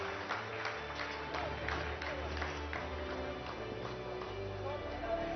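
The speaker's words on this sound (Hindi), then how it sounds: "आप इस तालियों के गड़गड़ाहट को सुन सकते हैं" Scientists in a Chandrayaan-3 mission control room keep up sustained applause and cheering, a dense steady crowd clapping that runs the whole stretch under background music and chatter.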